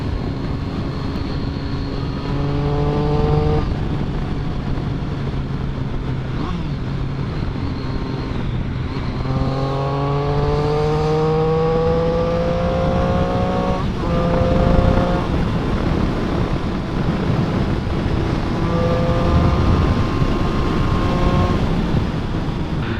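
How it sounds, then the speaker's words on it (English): A Triumph Street Triple 675R three-cylinder motorcycle engine revs up and down through gear changes, its rising pitched drone sweeping in repeated climbs, close and continuous. "Nothing sounds better than a Triple. Not the V-twin, not the inline 4."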